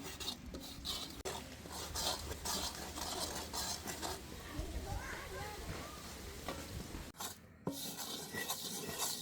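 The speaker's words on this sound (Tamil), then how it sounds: "நாங்கள் இப்படி கொஞ்சம் கொஞ்சமாக சேர்த்து வறுத்தா கட்டிக்காக வரும்" Flour being stirred and dry-roasted in a pan for puttu, with rough scraping and rasping strokes against the pan in a continuous rhythm, close and moderately loud, and a few brief clatters near the end.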